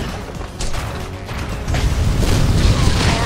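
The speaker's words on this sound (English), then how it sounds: "I like firing this cannon." Cannon fire in the action game Ninja Gaiden Sigma 2 aboard the flying fortress Daedalus, a run of heavy booming blasts building into dense, loud rumbling impacts with mechanical clatter.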